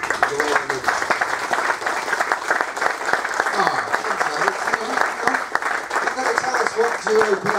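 Audience in a tent at a British Touring Car Championship race weekend at Oulton Park applauding a racing team, sustained dense clapping throughout with voices mixed in.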